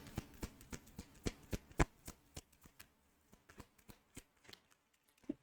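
Cards drawn from a second deck make quiet, crisp flicks and taps in an irregular run, close by and faint.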